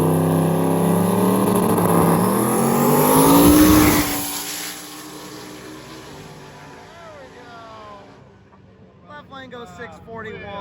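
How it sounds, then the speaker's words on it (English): Drag race car at Carolina Dragway, the House of Hook, rising to a loud roar as it launches and pulls away, fading into the distance, with crowd chatter and voices around it. "time to see some racing here at the House of Hook Carolina Dragway"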